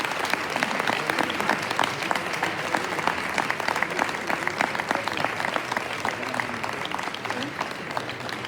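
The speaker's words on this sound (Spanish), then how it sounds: "Dadle un aplauso, que yo creo que se lo merece mucho." An audience at a book presentation for Federico García Lorca's sonnets applauds warmly: dense, sustained clapping from a roomful of people that stays steady throughout, with faint voices underneath.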